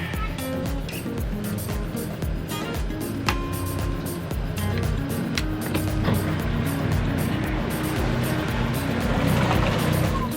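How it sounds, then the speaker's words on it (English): A sailboat's engine runs with a steady low drone while the anchor is raised, mixed with water and wind noise and a few faint knocks. "Just need some engine power."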